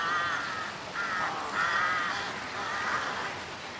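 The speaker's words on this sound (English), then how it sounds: "Carrion crows." Carrion crows cawing in a series of harsh, drawn-out calls at moderate distance, several overlapping caws over a steady outdoor background with no talking.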